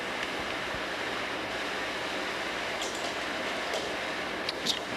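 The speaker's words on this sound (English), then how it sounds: "Pretty good waves here" Ocean surf breaking at a beach below the flanks of Diamond Head, Hawaii, heard as a steady broadband wash of waves with no break, moderately loud and continuous, with a few faint brighter splashes near the end.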